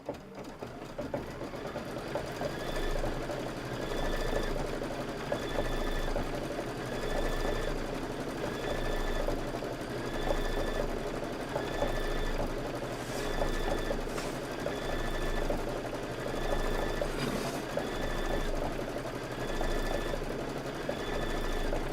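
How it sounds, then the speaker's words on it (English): A Kimberbell embroidery machine stitches long border strips in a steady, continuous mechanical whir with a repeating rhythmic pulse and faint periodic chirps, close and alone without any talking. "I'm just gonna go ahead and hit start, and now it's gonna do all the stitching"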